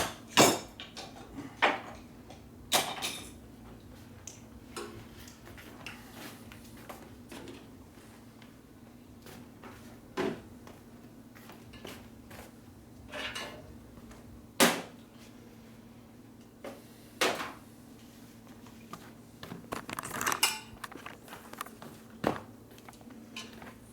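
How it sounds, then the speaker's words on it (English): Loose metal tools clatter and rattle on a workbench in a motorcycle garage where a 1967 Harley-Davidson 74ci Shovelhead FLH is being assembled, with scattered sharp clinks and knocks over a low steady hum. "what else is gonna rattle over here? All these tools."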